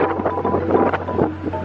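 Wind buffets a boat moving across Lake Kawaguchiko, a close, gusty rush with microphone wind noise over a low steady engine hum, with no talk.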